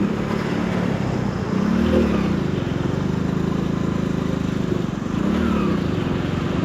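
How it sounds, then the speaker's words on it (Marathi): Busy road traffic on the NH66 highway at Mangaon, heard from a moving motorcycle: a loud, steady engine drone with passing vehicles swelling and fading, and no talk. "फार ट्रॅफिक आहे."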